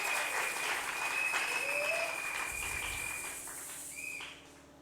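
Applause from an audience at a gathering, a steady broad patter sustained through the moment before easing off near the end, with faint bird calls audible in the background.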